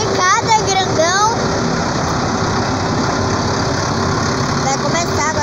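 At a tractor festival, a tractor engine runs and idles with a steady low rumble and vibration, while people talk over it nearby.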